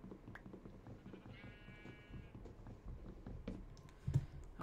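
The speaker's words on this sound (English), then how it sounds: "We got lots of sheep here" Minecraft sheep bleat once in a short, tremulous, wavering cry over quiet game background with faint clicks.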